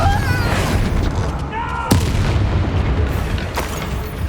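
Explosive spell blasts from Hogwarts Legacy combat, a booming impact with a sharp crack over a dense rumbling battle bed, with voices shouting spell names throughout.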